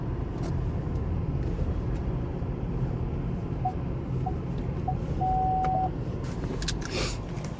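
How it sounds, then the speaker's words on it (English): A car being parked, its engine and road rumble steady and close throughout, with a few short electronic beeps, likely parking-sensor tones, near the end and no talk. "Just gotta park my car real fast."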